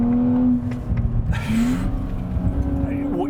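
A 2024 Nissan Z NISMO engine pulls in manual mode, its tone climbing and then dropping at each quick gearbox shift, heard from inside the cabin beneath people talking.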